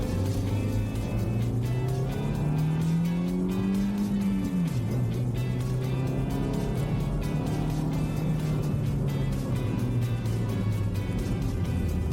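A car engine revs hard and surges as the vehicle pulls away from its parking spot, a loud, steady drone climbing and dipping in pitch over twelve seconds with no talk.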